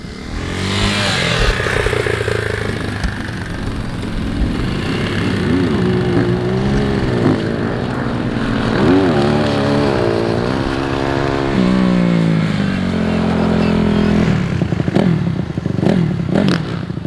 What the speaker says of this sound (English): Oh, look, more bikes coming there